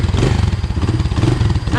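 A motorcycle engine runs steadily close by during a drive in Laos, a loud, continuous rough chugging rumble with rattly texture and no pauses, filling the whole stretch.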